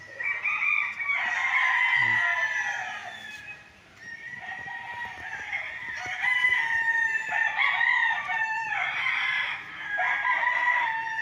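Gamecocks kept for conditioning at a small cockpit in Pagsanjan, Laguna crow one after another, loud, drawn-out calls overlapping nearby with only a brief lull between them.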